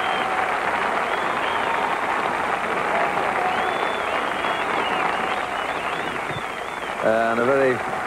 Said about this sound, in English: a very satisfied Jack Nicklaus getting a wonderful round of applause, a standing ovation